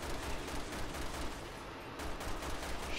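Rapid gunfire from the video game Resident Evil 6, a dense continuous barrage of shots filling the whole stretch at steady loudness, with no voices over it.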